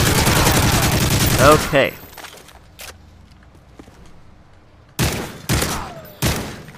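Gunfire in the video game Modern Warfare 3 as a loud sustained fusillade, then a lull with a few faint pops, before three separate sharp bursts close by. A voice speaks briefly.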